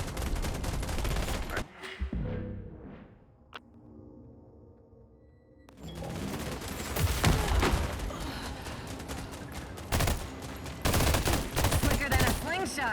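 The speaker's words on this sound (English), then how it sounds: "Look out! Snipers up top!" Sniper and heavy gunfire in a sci-fi combat game set in The Expanse universe, dense bursts of shots and impacts filling most of the clip, with a short quieter lull in the middle before the firing resumes loudly.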